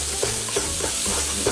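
Tomato paste for a bolognese fries in a hot pan with a steady, dense sizzle, and a spoon scrapes and stirs through it several times at close range.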